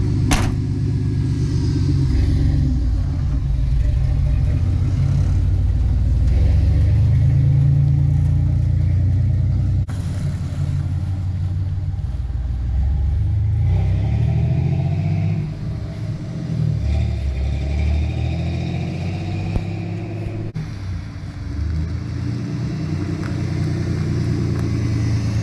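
A car being moved during an LS engine swap into a 1991 GMC 1500 project, its engine running at a steady mid-range rumble with occasional light revving, close and continuous throughout.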